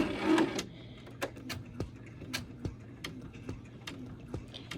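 A slowed sewing machine stitches a zigzag over vinyl holding confetti, giving a regular series of sharp, close ticking needle strikes after a brief louder rustle at the start.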